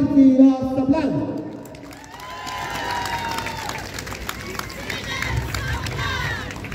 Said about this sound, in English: A round of applause to the municipality of Sablan.